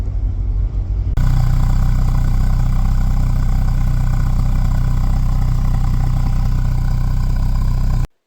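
A restored barn-find Volvo 245 engine starts and settles into a steady, loud idle close by, a constant low rumble running without a break for about seven seconds before it cuts off abruptly.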